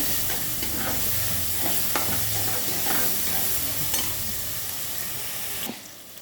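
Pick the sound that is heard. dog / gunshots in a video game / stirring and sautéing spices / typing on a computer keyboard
stirring and sautéing spices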